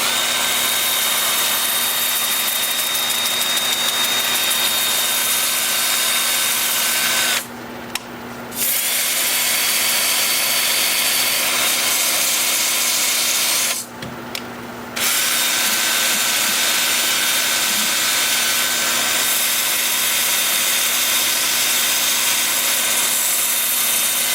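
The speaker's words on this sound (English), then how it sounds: "with the lathe spinning in reverse at about 380 RPM" A wood lathe turns a piece of California olive wood in reverse at about 380 RPM, a steady loud motor whir with a sanding hiss that drops out twice for a moment.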